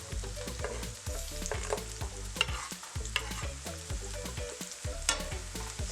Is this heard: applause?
no